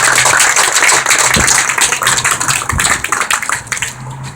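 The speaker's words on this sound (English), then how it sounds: "We all give them a round of applause, please." A crowd claps together at an outdoor groundbreaking ceremony for San Bernardino County Fire Station 32 in Needles, California. The dense applause is steady and close, then thins out toward the end.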